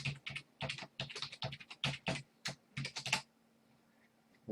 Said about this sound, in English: So type your username